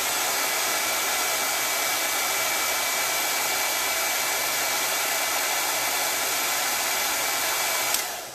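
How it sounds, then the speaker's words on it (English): A hair dryer blows steadily and loudly on a chalk-painted wooden bunny Easter bucket craft, a constant whooshing roar with a faint whine that runs unbroken for about eight seconds before shutting off. "I also brought my dryer because I want to make sure this is dry"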